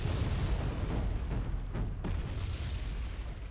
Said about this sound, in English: We are receiving a barrage over here.